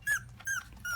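Havanese puppies at play, giving three short, high-pitched squeaky yelps in quick succession, close and fairly soft, with no talk.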